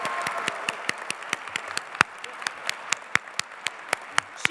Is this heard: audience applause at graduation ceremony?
yes